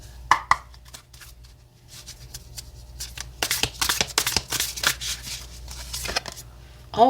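Oracle cards are shuffled by hand for a tarot reading, with a few quick flicks at first, then a dense run of close, crisp riffling and slapping bursts and no talking.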